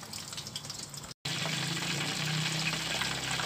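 Buffalo chicken wings fry in a covered pan, giving a steady, moderately quiet sizzle and crackle after a brief drop to silence.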